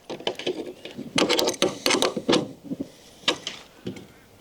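An adjustable wrench tightens a fitting on a line, giving a quick run of close metallic clicks and ratcheting scrapes in uneven bursts.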